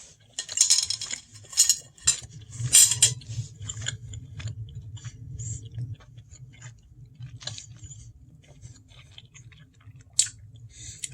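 Metal cutlery clinks and scrapes on a plate, with soft chewing of a seasoned, chewy steak at a home dinner; irregular close taps and clicks, louder early on, then quieter chewing over a low background hum.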